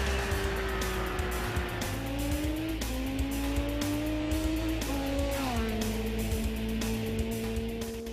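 Benelli Tornado motorcycle engine revving loudly and continuously, pitch climbing and stepping up through gears with brief drops between shifts, steady and close throughout.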